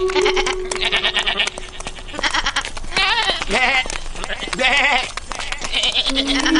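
Goats bleat in the cartoon Yakari, several wavering cries overlapping in quick succession, close and loud, mixed with other voices.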